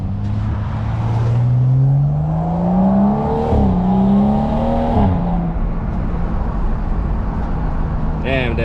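A BMW 535i engine sounds through a newly fitted 3-inch single-exit exhaust, with a low, steady drone that rises and falls over several seconds as the revs climb, heard close up outdoors.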